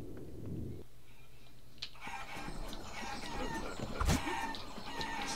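Chickens in the video game Guacamelee cluck and squawk close by, a busy flurry of clucks with one louder burst near the end.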